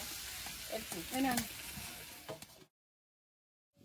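Oil sizzles steadily as food fries in a kadai in a home kitchen, with a few stirring scrapes and faint background voices, before the sound cuts off abruptly into silence.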